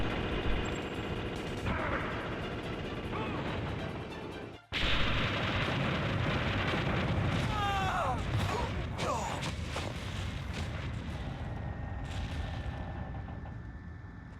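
Grenade explosions and gunfire from a video game form a dense, loud, continuous wash of blasts and shots, broken by a brief dropout just before the midpoint, then carrying on with scattered sharper cracks.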